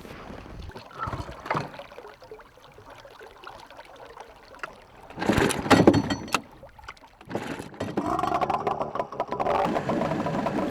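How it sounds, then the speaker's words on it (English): Boats travel down a river in the Siberian taiga, with water sloshing and splashing against the hulls, a faint motor hum, and louder bursts of rushing water as the craft move along. "We sailed down the river with two boats."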